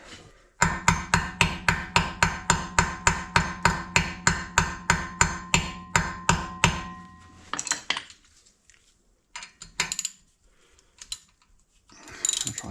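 Rapid metallic hammer strikes hit a stuck rear brake part on an Alfa Romeo Giulia Veloce, starting as a fast, even run of about twenty sharp clanks, then thinning into scattered louder knocks and clatter.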